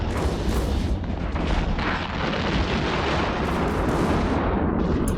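A hull-tanked Brutix in an EVE Online tournament match takes weapon fire, a dense, loud barrage of booming impacts and rumbling explosions that runs continuously without a pause.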